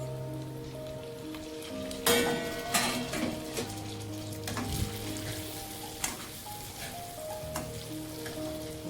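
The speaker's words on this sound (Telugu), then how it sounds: "చూస్తున్నారో చక్కగా వేగిపోతున్నాయి వంకాయలు" Stuffed brinjals fry in a pan with a steady crackling sizzle like light rain, punctuated by a few louder pops and spatters, close and continuous with no voices.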